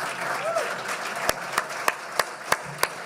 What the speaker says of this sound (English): You should be clapping now